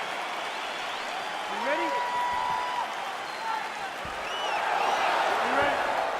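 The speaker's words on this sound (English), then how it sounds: "crowd getting excited as this fight gets underway" Crowd cheering and applauding in an EA Sports UFC 4 bout between Bruce Lee and Canelo Alvarez on PS5, a steady roar that swells near the end beneath a commentator's voice.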